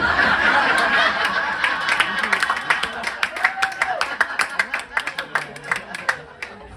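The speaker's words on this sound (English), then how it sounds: "Fucking applause break" Comedy club audience at the Red Room breaks into laughter and applause, with dense clapping and chuckles building then fading into scattered sharp claps, loud and close, under a lingering mix of crowd voices.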